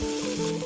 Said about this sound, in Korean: 가지를 넣고 물을 조금 넣고 섞어줍니다